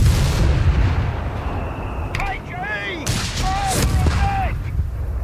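Mortar fire in the video game Company of Heroes 3, heavy booming blasts and rumbling battlefield noise up close, with whistling shell sounds and shouted soldier voice lines over the din.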